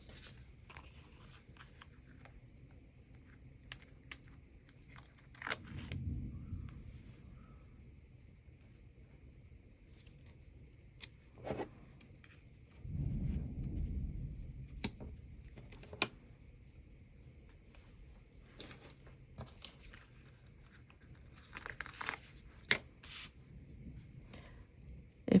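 Foam tape being handled for a paper craft, with faint crinkling, peeling and light tapping clicks in irregular bursts, plus a few louder rustles, mostly quiet with no talking.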